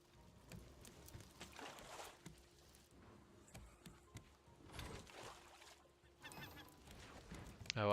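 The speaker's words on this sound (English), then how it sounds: "Oh, I hear you, seagulls." Seagulls call in a raft survival video game: scattered short, faint honking cries come in bursts over a quiet background, with no talking.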